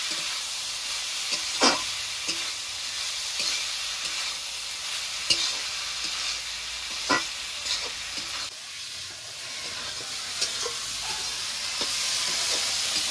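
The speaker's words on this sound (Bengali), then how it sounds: "সেদ্ধ করে রাখা কলার মোচা আর ভেজে রাখা আলুগুলো দিয়ে ভালো করে কষিয়ে নেব।" Boiled banana flower and fried potatoes sizzle in a pan, softly and continuously, with sharp scrapes and clicks of stirring at irregular intervals.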